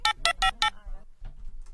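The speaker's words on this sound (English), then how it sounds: "let me just dial this in real quick." Four evenly spaced telephone dialing tones beep in quick succession, loud and close, each a short sharp burst, followed by a quiet line hiss.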